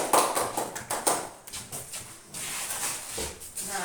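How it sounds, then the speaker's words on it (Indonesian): A classroom of students clapping in short uneven bursts, close and fairly loud, with a few gaps between rounds of claps and no talking over it. "terima kasih. Tepuk tangan."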